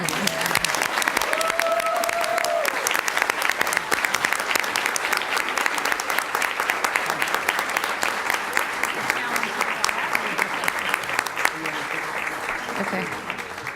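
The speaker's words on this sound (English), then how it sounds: "Now we can clap." An audience at a county school board meeting applauds the coaches and team in a long, sustained wash of clapping. It stays loud and even throughout, with a few voices faintly audible underneath.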